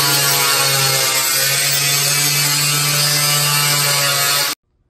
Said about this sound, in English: take a flapper wheel to the aluminum just to bring it down a little bit